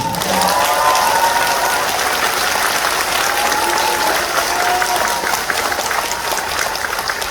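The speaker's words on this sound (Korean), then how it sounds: "맞으면 분위기가 좀 썰렁하니까 박수 한번" Audience applause at a talk concert event in Jeonbuk, sustained dense clapping at steady loudness throughout, with faint whistles or cheers over it.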